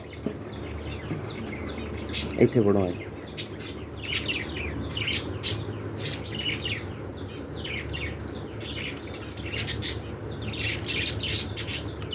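Pet budgies chirp and squawk continuously in a home, a busy flurry of short tweets over a steady background, with people talking nearby.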